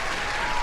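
A short burst of applause used as a sound effect, steady clapping that fills the whole moment at moderate volume.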